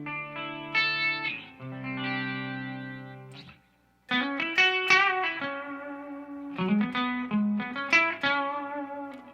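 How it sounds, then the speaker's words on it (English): Clean electric guitar chords and single notes through a Kingtone Duellist, ring out with a light amp reverb tail, played in short phrases with a brief pause between them. "So this is our clean tone."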